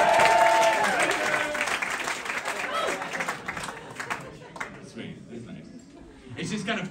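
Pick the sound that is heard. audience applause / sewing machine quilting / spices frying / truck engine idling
audience applause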